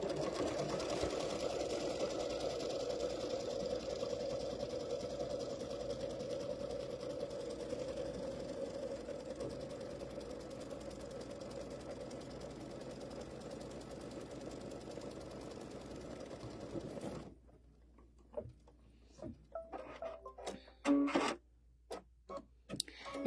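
Embroidery machine stitching an in-the-hoop Chucky pumpkin potholder, a steady, loud mechanical whirring hum with rapid needle ticking running continuously for most of the clip, then stopping and leaving quieter intermittent clicks and handling sounds.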